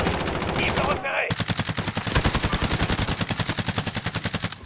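Automatic gunfire in a video game shooter, with a brief burst and a short pause followed by a long, rapid, loud stream of evenly spaced shots, close and uninterrupted.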